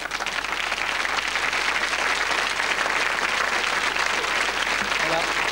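A studio audience on a 1993 French TV show on TF1 applauds in a dense, continuous wash of clapping that stays loud and steady throughout.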